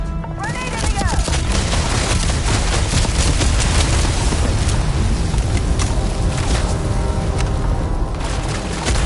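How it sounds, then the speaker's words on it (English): A grenade goes off in the Starfield video game amid dense, sustained booming and crashing gunfire, loud and close throughout, with voices shouting over the battle. "Grenade in the air!"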